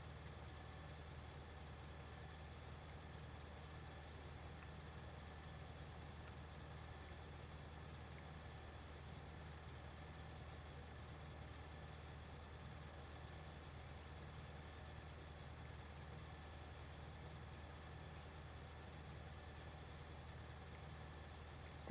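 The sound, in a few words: distant vehicle outside, plane or car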